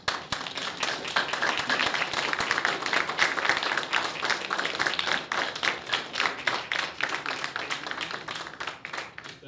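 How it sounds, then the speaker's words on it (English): Sustained audience applause at a Veterans Day ceremony in York County: dense, steady clapping from many hands that holds for several seconds before thinning slightly toward the end, with faint voices underneath. "Again, let's give them another applause."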